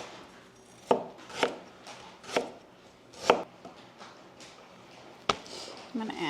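A knife chops regular onion, garlic cloves and ginger on a board for kimchi, landing in sharp, evenly spaced thuds about every half second to second, close and moderately loud.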